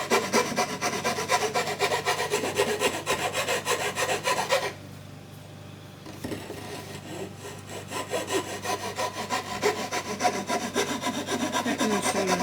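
A rasp built from a stack of hacksaw blades scrapes steadily across wood in close, continuous rasping strokes, loud and dense, with a brief quieter pause midway before the rubbing resumes.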